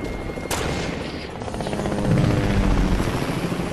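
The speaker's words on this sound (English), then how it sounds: "There's a helicopter landing right now." A helicopter lands in a video game, its steady loud rotor drone swelling and thudding over constant battle noise, with a sharp crack near the start.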